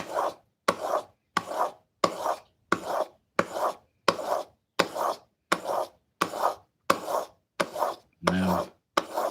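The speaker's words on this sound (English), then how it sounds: "as I'm sharpening, right? These stones are also not forever stones" Carving blade drawn across sharpening stones in a steady series of about thirteen evenly spaced rasping strokes, each a short scrape with a brief pause between, close and fairly loud with no talking.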